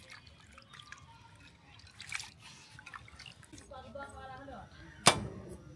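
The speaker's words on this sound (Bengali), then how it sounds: "তো এর জন্য আমি পরিষ্কার পানি দিয়ে ভালোভাবে ধুয়ে নিব।" Broiler chicken feet rinsed under clean water in a home kitchen, with soft splashing and dripping, a brief louder splash near the end.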